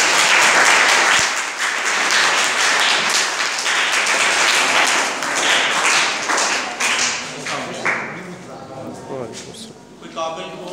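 Audience applause at a school farewell ceremony for a headmaster, dense loud clapping from a crowd that gradually thins out into scattered claps, with some voices heard over it.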